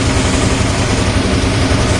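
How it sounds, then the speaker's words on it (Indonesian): A motorcycle engine idles steadily while warming up in the morning, a loud, close, continuous rumble with no change in pace and no voices. "Jadi kebetulan saya lagi panasin motor."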